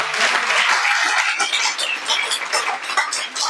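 Applause from a church congregation at a missionary conference, a dense steady wash of many hands clapping close and loud throughout, with no talk over it.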